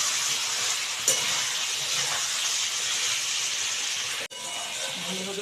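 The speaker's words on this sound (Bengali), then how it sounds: "হ্যাঁ, মাংস আমার পুরোপুরি কষা হয়ে গেছে। দেখতে পাচ্ছি কতটা মাংস থেকে তেল বের হয়ে গেছে।" Chicken sautéing in spices gives a soft, steady sizzle and hiss, broken by one brief click and a sudden short drop near the end.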